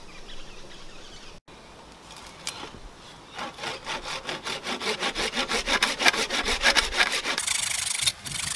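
A saw cutting through a deer antler mount in a home workshop, the rasping strokes starting slowly and then speeding into a steady, close, rhythmic back-and-forth that grows louder toward the end.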